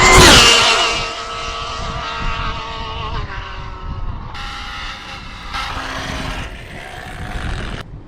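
An Arrma Limitless V2 RC car makes a high-speed run into a headwind. Its electric motor gives a loud, rising whine that peaks early as it roars past, then holds a steady, strained high-pitched drone with shifting tones.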